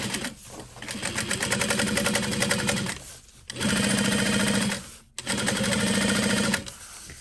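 Sewing machine running close up while top stitching a shoulder bag, three bursts of fast rapid stitching separated by short pauses, loud and alone.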